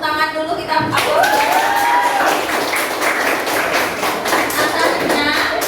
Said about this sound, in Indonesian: nah kita tepuk tangan dulu